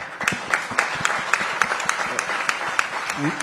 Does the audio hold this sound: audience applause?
yes